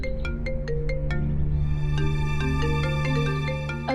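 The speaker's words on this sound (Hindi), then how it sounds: "मेरा फोन बज रहा है" A mobile phone ringtone plays a bright, repeating electronic melody of plucked tones, ringing steadily and clearly for several seconds with nobody speaking.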